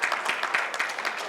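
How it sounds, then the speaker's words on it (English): A conference audience at a women's hospitality expo in Bengaluru claps briefly, a quick burst of close, rapid applause with individual hand claps audible. "I think we can have a little louder claps."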